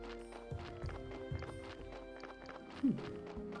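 Donkey sounds from the video game Graveyard Keeper: rhythmic hoof clip-clops with a short braying call near the end, over a steady game music background.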